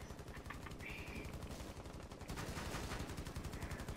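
Rapid automatic gunfire from Rainbow Six Siege, a dense rhythmic stream of shots with a brief break midway before firing resumes, moderately loud with faint voices in the background.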